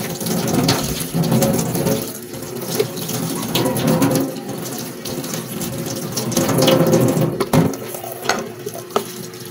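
Tap water runs steadily into a sink while dishes are rinsed after washing with homemade dishwashing liquid, with a continuous rushing splash broken by clinks and scrapes of handled dishware, no one speaking.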